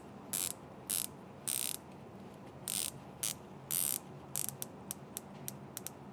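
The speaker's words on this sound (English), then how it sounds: "The titanium unidirectional bezel displays a 60-minute counter and comes with a carbon foil insert with an easy grip and smooth turning action." Titanium unidirectional dive watch bezel with a carbon foil insert clicking as it turns, crisp ratcheting bursts in short runs and then single quick clicks, close and fairly quiet, alone with no talk.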